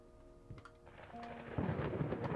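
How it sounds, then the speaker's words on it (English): Thunderstorm in the horror game Layers of Fear, with a faint tone fading before a rumbling roll of thunder builds and swells loudly, rain-like hiss filling the end. "Oh, here's lightning and thunder and stuff."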